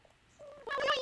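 Cats making sounds while eating, played back from a video through a speaker: a short, faint, rising meow-like call that swells near the end after a quiet start.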